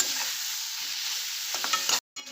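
Chilli, turmeric and coriander powder masala sautés in a pan for a paneer dosa filling, a steady close sizzle with a few stirring scrapes near the end before a short break.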